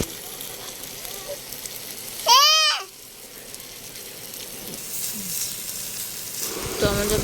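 Curry frying in a pan while being stirred, a steady wet sizzle running throughout, with one brief squealing vocal sound partway through.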